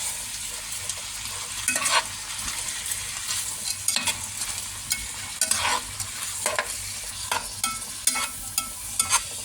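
Chili powder stirred into vegetables frying in butter in a pan: repeated close scraping strokes of a spoon over a soft continuous sizzle, no talking.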